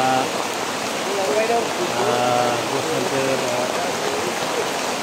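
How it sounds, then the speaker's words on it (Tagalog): Steady, unbroken rain pours down in a dense wash that fills the whole clip, with voices talking over it. "Umuulan, walang tigil"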